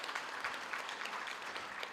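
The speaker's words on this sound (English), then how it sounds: "Can you give them a round of applause to all those leaders?" An audience at a university graduation ceremony claps, a dense, even patter of many hands, fairly faint and sustained through the short stretch.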